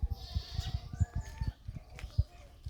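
A goat bleats repeatedly in a village in a rapid, wavering, pulsing call that sounds fairly close. Faint bird chirps are heard in the background.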